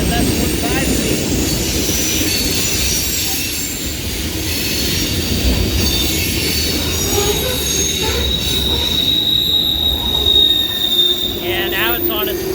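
A long CSX freight train brakes on approach to Sykesville, its steel wheels squealing with high, sustained screeches over a steady rumble and clatter of passing cars, loud and close throughout.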